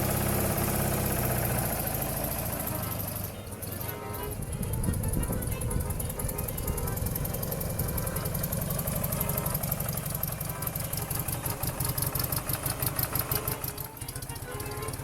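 A Russian Neval sidecar motorcycle engine runs close by at a steady rhythmic idle, shifting and pulsing after it is put into gear, with a voice talking briefly over it.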